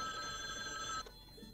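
A film's telephone rings with a bright electronic trill that rings steadily for about a second, then cuts off, leaving quiet room tone.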